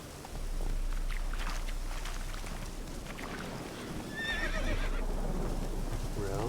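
Roach, a horse in a video game, lets out a clear whinny over steady hoofbeats and rushing ambience, and a second, softer neigh follows near the end.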